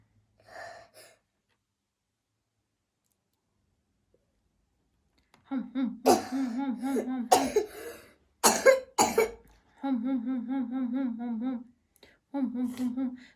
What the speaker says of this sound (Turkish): Burada bir çocuk öksürüyor.